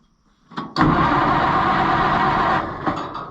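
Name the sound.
old vehicle engine cranking, giving a little chuff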